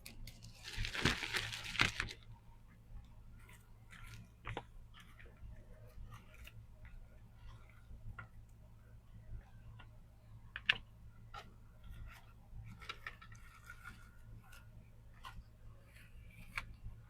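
Scissors trimming crafting material, a quick burst of crisp snips at the start followed by scattered faint clicks and light handling taps over a steady low hum.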